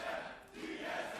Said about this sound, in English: the crowd has been awesome today with chants